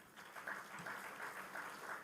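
An award ceremony audience claps in a soft, distant patter of applause lasting a couple of seconds.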